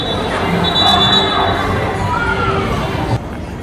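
Crowd at Chinese New Year festivities in China, a close, busy murmur of many voices and shouts at fairly steady level that drops slightly near the end.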